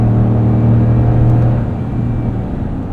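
Ram 1500 pickup with a 5.7L HEMI V8 accelerating while towing, a deep, steady engine rumble with strong low harmonics heard from inside the cab, easing slightly near the end.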